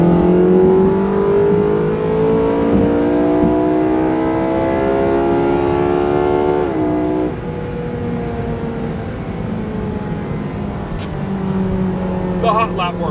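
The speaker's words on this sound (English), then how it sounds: "It's a pretty good sounding flat plane crank V8, if you ask me." A Porsche 918 flat-plane-crank V8 engine revving hard, its pitch climbing steadily then dropping sharply on a gear change before climbing again, loud and close.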